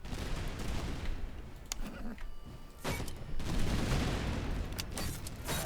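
Grenadiers fire muskets in the game Master of Command, a ragged volley of overlapping gunshots and booms in a battle scene with steady background din. Someone comments over the firing.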